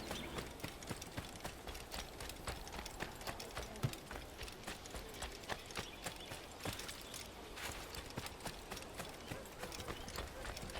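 Steady rhythmic clip-clop of hooves, a horse walking at an even pace in the video game Assassin's Creed 2, fairly quiet against a constant low background hum.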